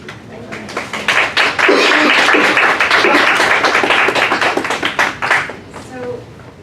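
Audience at an engaged scholarship showcase bursting into applause, a dense, close wash of many hands clapping that swells quickly, holds for several seconds, then thins into scattered claps and fades.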